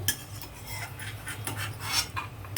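Cashews are lightly roasted in a pan, with a spoon stirring them in a series of close, crisp metallic scrapes and clinks over a faint low hum.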